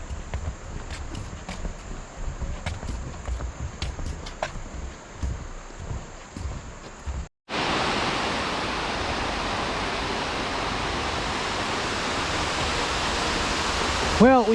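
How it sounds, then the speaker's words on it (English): Creek water flows on a winter day, with a soft broken rush and scattered faint clicks first, then a sudden much louder, dense hiss of water close by that continues to the end. "We've actually got some decent water flow."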